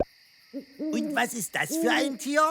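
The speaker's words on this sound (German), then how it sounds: "Das ist eine Eule auf der Jagd." Night-time owl hoots during a hunt, a series of low hoots alongside a higher steady tone, under a child's spoken question.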